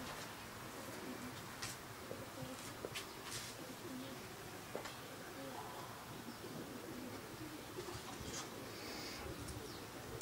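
Racing pigeons cooing faintly at a loft as the birds return from a club race, with soft coos and scattered wingbeats and clatters over a low steady background, and occasional quiet voices nearby.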